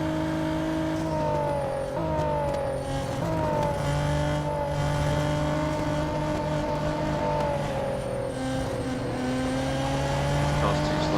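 A race car engine roars steadily in the Real Racing 3 mobile game, its pitch climbing and dropping through gear shifts over eleven seconds, loud and continuous with a faint tire squeal.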